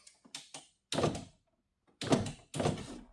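A race car door being latched, with several solid close thunks and rattling knocks of metal catching in the latch, in short bursts separated by brief pauses.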